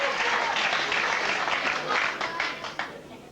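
Applause from a crowd at the 1995 Mosconi Cup pool match, sustained and fairly loud at first, then thinning toward the end with a few distinct claps, while a commentator talks over it.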